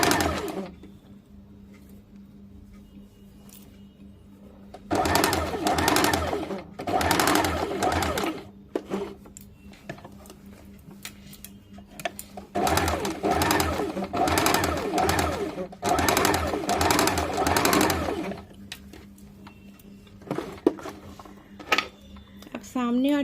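A sewing machine stitches a half-inch dart on the front of a kameez, several loud bursts of whirring stitching separated by pauses, with someone talking in between and faint cooing birds in the background.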